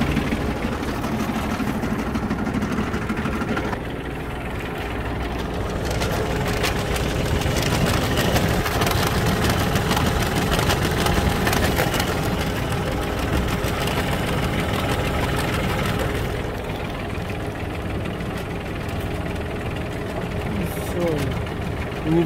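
Iseki TK29FF compact tractor with its PTO-driven tiller engaged, a steady close diesel engine drone with rattling mechanical texture running continuously, while someone talks over it.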